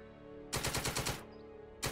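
Machine-gun fire in the Second Front wargame, a close rapid burst of evenly spaced rounds lasting under a second, then another burst starting over a quiet musical backdrop.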